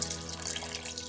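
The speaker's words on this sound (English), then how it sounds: "So I'll add the water." Cold water poured from a jug into a blender for beetroot juice, a steady close splashing stream that runs for about a second on its own.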